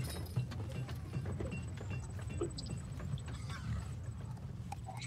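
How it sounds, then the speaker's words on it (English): A horse-drawn carriage comes along a street in a tabletop role-playing game session, with soft, irregular hoof clops and rattling over a steady, noisy background. "there is a horse-drawn carriage coming your way"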